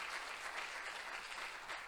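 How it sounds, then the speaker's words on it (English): Audience applause for a birding podcast co-host at a Wisconsin birding club event, a steady wash of many hands clapping together, soft and distant with no talk over it. "Give Jason a round of applause."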